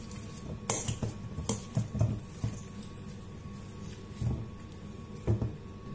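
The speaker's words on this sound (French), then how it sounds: "Je vais commencer par écraser mes pommes de terre." Cooked potatoes being mashed in a metal pot for hachis parmentier, with irregular knocks and clanks of the masher against the pot, close up, and no one talking.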